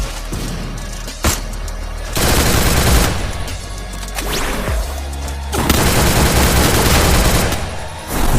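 Loud, dense automatic weapon fire from the mobile battle royale game Free Fire, with sustained rattling bursts, brief pauses and heavy booming impacts.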